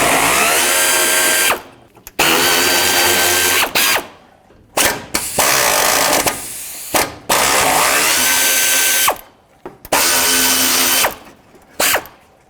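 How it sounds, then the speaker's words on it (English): A power ratchet or impact tool spins out 10mm bolts from the upper radiator support of a 2002–06 Toyota Camry, in about six loud, close bursts separated by short pauses. "The next thing I want to do is remove these 4 10mm bolts."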